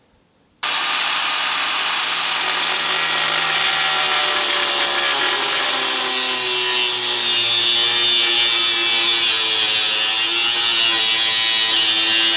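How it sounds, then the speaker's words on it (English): Power saw cutting through a piece of aluminum sheet for the back of an elevated serving table shelf, a loud steady grinding rasp that starts abruptly and holds unbroken for about twelve seconds, alone without talk. "So let's cut a piece of aluminum and add it to the back."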